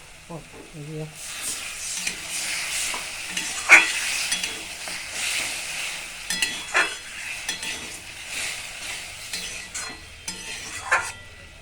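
Spices fry in a pan with a soft, continuous sizzle, broken by repeated scraping strokes of a spoon stirring them, close and fairly quiet, with a few louder clinks of metal.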